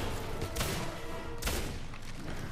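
Two heavy, punchy blasts from a shotgun in the game Singularity, each a sharp broadband crack with a short tail, about a second apart, heard close over a busy background of game noise.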